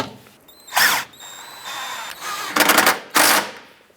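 Power tool driving bolts on a 2004-2009 Dodge Durango during intake-area work, with several short loud buzzing ratchet bursts separated by pauses, close up and alone.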